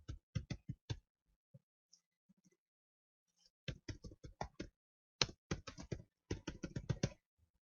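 Bursts of quick, crisp typing on a computer keyboard, several short clusters of keystrokes separated by pauses, close and clear with no talk.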